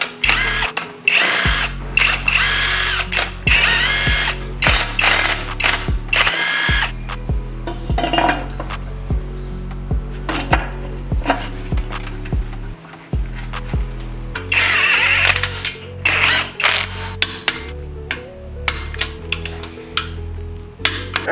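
A ratchet torquing bolts on Nissan GTR downpipes gives repeated bursts of close, crisp clicking, pausing between strokes, over a steady low tonal hum.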